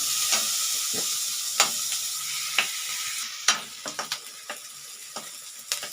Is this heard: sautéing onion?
yes